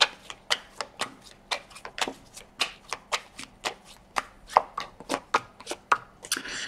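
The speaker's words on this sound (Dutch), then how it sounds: "Dus dan de kaarten schudden om te kijken wat deze week voor jou gaat brengen." Tarot cards are shuffled in a steady run of about two dozen crisp riffling snaps, evenly paced and close, with no voices.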